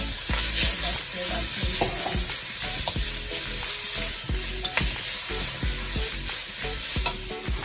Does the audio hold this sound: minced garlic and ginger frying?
yes